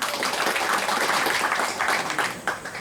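A crowd at a Manikkavasagar guru puja gathering in Thirukazhukundram breaks into sustained, dense applause for a speaker, a full wash of clapping that thins slightly toward the end.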